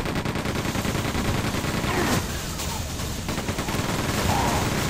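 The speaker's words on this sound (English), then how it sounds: "And gotta go machine gun these guys." Quake 2 machine gun fire rattles in dense, continuous rapid bursts throughout, loud and close, with a brief thinning midway.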